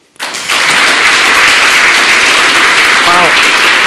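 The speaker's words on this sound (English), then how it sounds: "Please, an applause for her." An audience at the 23C3 Chaos Communication Congress applauds in a lecture hall, a dense, loud wash of clapping that starts abruptly and holds steady to the end.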